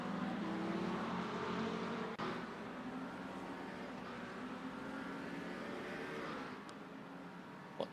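Race cars drone past in a sim racing game at Spa, a steady engine roar that fades slightly, with a faint click near the end.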